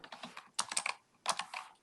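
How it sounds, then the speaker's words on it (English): Clicky computer keyboard typing in bursts of rapid keystrokes, with short pauses between flurries, close and moderately loud with no voices. "Sorry for the clicky keyboard."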